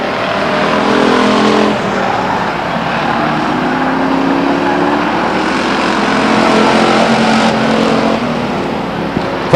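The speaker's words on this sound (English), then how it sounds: "Heavy excitement in turn one as Tom Bolin and Dan Gabor go around the lap car of Amy Sullivan." Race cars roar around a turn at Stockton 99 Speedway, several engines howling together in a dense, loud, continuous wash with possible tire squeal, no voices over it.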